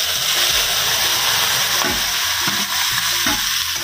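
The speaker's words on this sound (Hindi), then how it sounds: "तड़का में डाल दिया" Loud, steady sizzling of spices frying in hot oil for a tadka, with occasional stirring scrapes against the pan.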